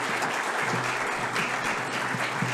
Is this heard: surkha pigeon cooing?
no